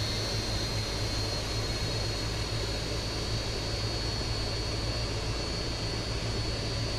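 Steady jet engine roar of an L-1011 Tristar airliner in a flight simulator game, a continuous broadband rumble with a faint high whine, loud and unbroken throughout with no talking.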